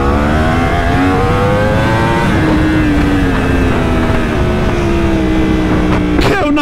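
A Yamaha R1 sport motorcycle of about 200 horsepower accelerates hard, its loud engine whine climbing steadily in pitch for several seconds before a brief burst near the end.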